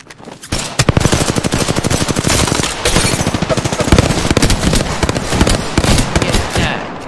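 Loud, dense automatic gunfire in a shooter video game, with rapid bursts rattling almost nonstop and only short gaps between volleys.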